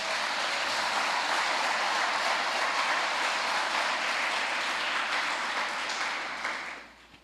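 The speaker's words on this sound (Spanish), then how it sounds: "Dale un fuerte aplauso al Señor" Church congregation giving a strong round of applause, a dense, roaring wash of clapping that stays loud and steady for about six seconds before fading away.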